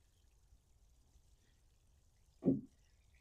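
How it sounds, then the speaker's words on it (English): A single short splash of water poured onto a young grapevine in a garden bed. It comes once near the end after a quiet stretch. "Let's put some water on."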